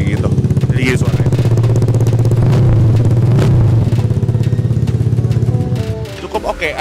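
A 150cc Vespa Sprint scooter engine idles and revs close by, a steady throbbing exhaust note that rises briefly before settling and fading toward the end.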